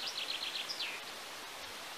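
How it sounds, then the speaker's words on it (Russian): A small bird sings outdoors in a few quick, faint whistled trills, heard at a distance over steady rustling wind and background hiss at a countryside dacha. "Где-то птичка поет."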